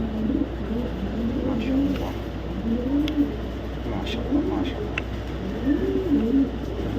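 Racing pigeons coo close by in a run of low, rolling calls repeated every second or so, with faint background noise and occasional soft chirps.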